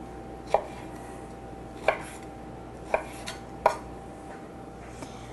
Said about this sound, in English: I'm going to cut it again in half. Want it in some small bite-sized pieces.